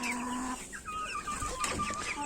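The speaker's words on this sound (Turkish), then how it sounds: "Bakın beyaz bariz bir şekilde horoz" Village chickens cluck and a rooster calls close by, a few short bursts of fowl sounds over a quiet farmyard background.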